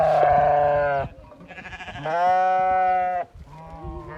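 Sheep bleat loudly and close by in three long, wavering calls separated by short pauses.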